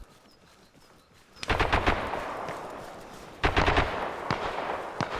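Gunfire in the video game Arma Reforger during an AI airport assault through a forest, two loud bursts of rapid automatic fire with scattered single shots between them.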